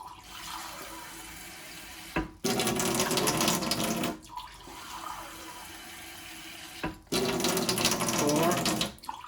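Water poured into a cooking pot for red lentils in three long, loud splashing bursts separated by brief pauses, each glass of water rushing in close by.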